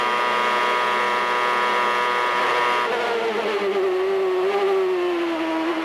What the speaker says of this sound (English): Just listen out for the gear changing.